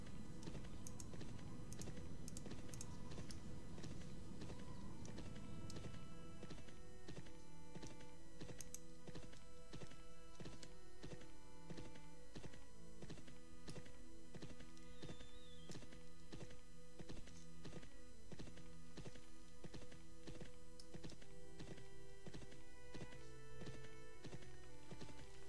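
Horse hooves clop rhythmically during riding in the online game Champions of Regnum. The steady, fast clicking runs on throughout over soft in-game music.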